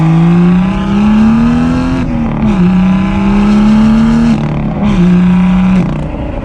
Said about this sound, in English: I am loving the sounds and the way this car drives.